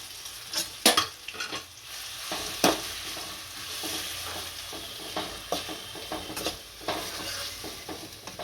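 Chopped onion, garlic, green chili and tomato sauté in hot oil with cumin for an onion-garlic chutney, giving a close, steady sizzle. Sharper pops and spoon scrapes break in now and then, and no one speaks.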